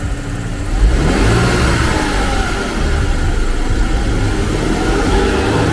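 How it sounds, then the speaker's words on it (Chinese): A Porsche car engine held at a steady rev of around 2000 rpm, a loud close continuous drone with slight swells and no talking. "你帮我加一下油门"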